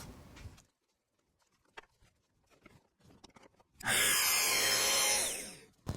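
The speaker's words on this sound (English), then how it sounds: "All I need to do is get this plunge enough in order to make that cut on the Splinterguard." A plunge track saw cuts along the splinterguard strip of its guide rail, a loud, steady, continuous whine lasting about two seconds, preceded by quiet handling clicks and taps.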